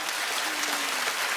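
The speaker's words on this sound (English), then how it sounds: "Keep clapping, you guys." Studio audience of a daytime talk show applauding, a steady dense wash of clapping throughout, loud and continuous with no pauses.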